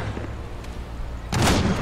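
Gunfire and explosive booms in the strategy game Iron Harvest, a continuous rumble of battle that swells into a louder burst of impact near the end.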